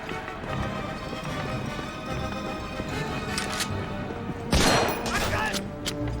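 Gunfire in the World War II shooter game Medal of Honor Frontline, a sharp burst of shots standing out near the end over a busy, steady game soundscape.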